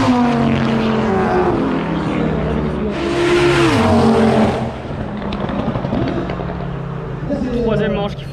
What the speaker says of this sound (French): je crois que c'est la manche finale entre la RS3 de Sautron et la S3 bleue